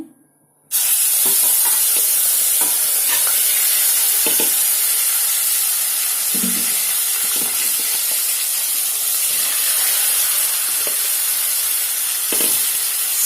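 Small fish dropped into hot oil in a pan, setting off a loud, steady sizzle that runs on with occasional scraping and stirring knocks.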